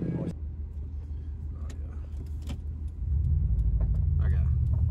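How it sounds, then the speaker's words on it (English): Low rumbling engine of a Toyota Supra driving away from a car meet, a steady deep drone that swells louder near the end amid outdoor background noise. "Supra's leaving, which is a bit unfortunate"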